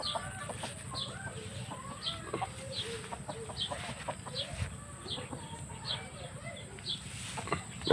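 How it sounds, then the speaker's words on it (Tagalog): Several chickens cluck and murmur softly at a distance, with scattered short calls over a quiet outdoor background. "Ito yung mga manok po yan ng aking kapatid."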